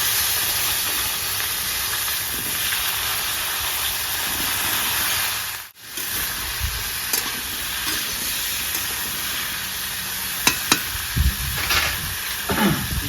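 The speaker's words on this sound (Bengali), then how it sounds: "এবারে আমি এই তেলে ফুলকপি ভেজে নেব" Cauliflower florets frying in hot oil after fish, in a rustic village-style kitchen, give a steady, loud hiss and sizzle throughout, broken by a brief drop near the middle and a few sharp clinks toward the end.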